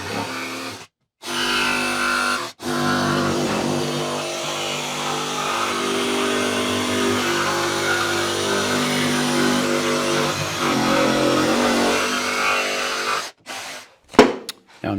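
A power saw cuts a small piece of plywood for a vardo gypsy wagon build, a loud sustained whining buzz that runs through several long passes, broken by short stops and a final clatter.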